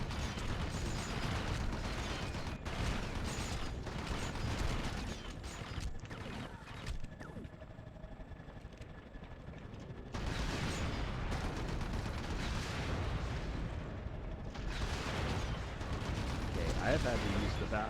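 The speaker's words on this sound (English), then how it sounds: "let's blow up Sopot's gunship" Explosions and heavy mechanical rumble as a gunship is blown up in the PS2 game Red Faction, dense and loud throughout with sustained crashing bursts.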